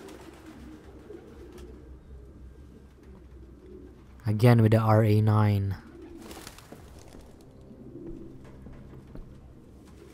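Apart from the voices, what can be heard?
pigeons cooing, from the video game Detroit: Become Human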